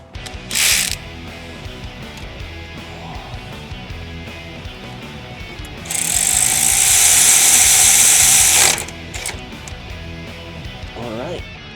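A ratchet tightens a nut on a billet bracket during installation on a 5.3L Chevy truck, giving a loud, dense clicking burst of a few seconds with brief shorter ratchet clicks before and after, and some talk around it.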